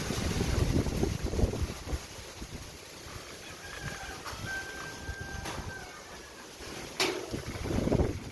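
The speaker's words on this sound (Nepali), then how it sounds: "ठुलो हावाहुरी हो र पोखरामा" Strong windstorm gusting through Pokhara, Nepal, with heavy rumbling buffets of wind noise rising and falling, loudest at the start and end, plus a faint whistle-like tone in the middle.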